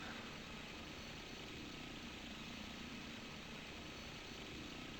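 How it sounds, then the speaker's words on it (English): A helicopter flying through a thunderstorm produces a dense, steady, loud roar of rotor and engine noise, unbroken and constant throughout. "That's what I get for trying to fly a helicopter in a thunderstorm."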